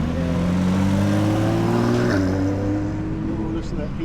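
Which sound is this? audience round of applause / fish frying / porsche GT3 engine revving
porsche GT3 engine revving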